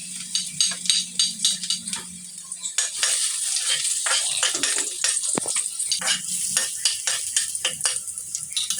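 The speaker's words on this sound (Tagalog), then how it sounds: "Ipisan natin yung bawang muna" Garlic sizzles and fries in a hot pan before squid goes in, the frying hiss steady and close while a utensil stirs and scrapes in quick repeated strokes, with no talking.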